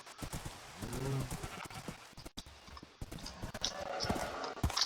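In a Minecraft game, horse hooves clip-clop in quick galloping beats with a whinny early on, fairly faint under a player's talking.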